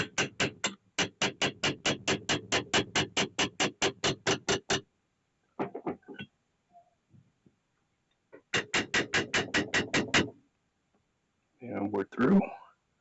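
Steady rapid hammer taps drive a 3/16 rod through the pin holes of a Bowie knife handle, a long even run of close blows, a pause with a few light knocks, then a second shorter burst and a brief clatter.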